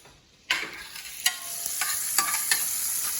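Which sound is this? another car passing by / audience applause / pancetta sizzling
pancetta sizzling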